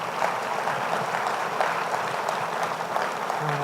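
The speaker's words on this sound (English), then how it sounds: "Let's give all of our sponsors a round of applause." A summit audience applauds its sponsors at the 2018 Sustainable Denver Summit, dense clapping from a large crowd, loud and sustained for the whole stretch without a break.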